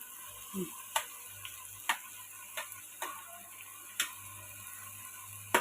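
Chicken pieces cooking in a hot clay pot with fried onion and tomato give off a soft, steady sizzling hiss, punctuated by sharp crackling pops about once a second, close and fairly quiet.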